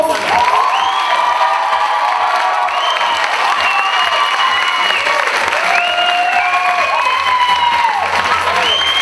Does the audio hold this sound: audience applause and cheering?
yes